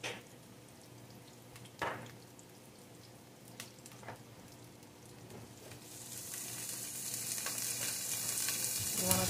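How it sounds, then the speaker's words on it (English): Onions sauté quietly in a pan with a soft, steady sizzle and occasional stirring scrapes and taps, the frying hiss growing brighter and louder toward the end. "You just want to keep sauteing these until it gets a little soft, until the onion is softened a little bit."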